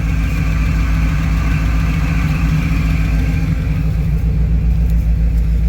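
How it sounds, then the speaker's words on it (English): An old engine idles steadily up close, a loud, even low rumble with a fast regular chug running throughout and no talking. "Well, she's idling."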